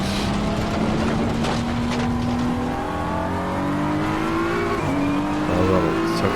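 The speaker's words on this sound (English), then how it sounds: "I do like the sound of the BMW." BMW race car in the Assetto Corsa Competizione racing game, its engine droning loud and steady with rising and falling pitch as it shifts gears, close and continuous with no talk over it.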